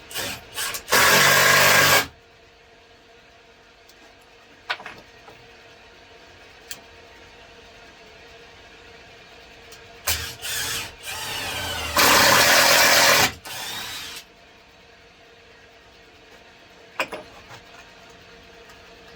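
A power drill drives screws into a 2x4 leg of a workbench being built in a shop, with two loud sustained whirring bursts separated by quieter handling, clunks and faint knocks.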